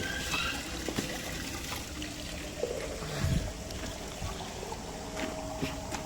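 Water pours and splashes continuously at close range while a dog is washed, with a few brief knocks and clatters mixed in and no talking.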